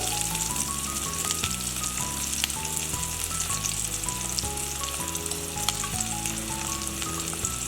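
Two or three green chillies sautéed in hot oil in a pan for a Kerala-style moru curry; a steady, loud sizzle and crackle continues throughout with background music playing underneath.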